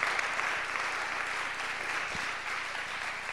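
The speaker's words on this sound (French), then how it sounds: "Je vous propose d'applaudir donc les intervenants d'aujourd'hui" An audience at an urban manufacturing and fab lab talk in Paris claps for the speakers, a steady, moderately distant wash of applause with no voices on top.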